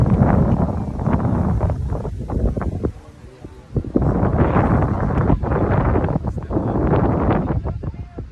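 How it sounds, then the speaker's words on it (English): Heavy wind buffets the microphone in Spain with loud, rumbling gusts, briefly easing before surging again, while voices talk underneath. "It was very windy."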